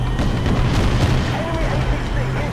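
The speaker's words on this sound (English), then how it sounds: "Oh, I got shot down by a turret." Heavy booming turret fire in the video game Battlefield 2142, a dense rumbling barrage of blasts running throughout, loud and continuous with speech faintly mixed in.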